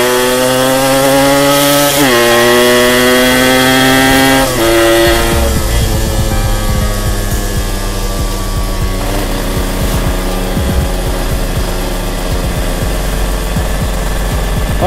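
A Yamaha RX-King style two-stroke motorcycle revving hard on a rainy test ride, loud and close, its engine note climbing through gear shifts with sharp drops between pulls, then settling into a rough, crackling drone.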